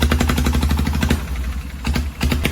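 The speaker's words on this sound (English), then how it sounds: "Many of the longtail boats in operation here have noise levels of 120 dB and above." A loud longtail boat engine on Koh Lipe, Thailand, hammering out a fast, steady chugging pulse that runs close and unbroken throughout.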